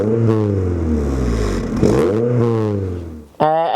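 An MG ZR 160 fitted with a loud chaff pipe exhaust revs close by, a deep droning engine note rising and falling in pitch over a few seconds before a brief mechanical clatter.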